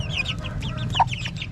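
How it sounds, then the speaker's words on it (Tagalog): Three-week-old chicks on a farm give a rapid run of short, close, high-pitched cheeps and clucks, several birds calling over one another in a quick chatter. "So ito na pala yung mga sisiw natin na 3 weeks na, 3 weeks old."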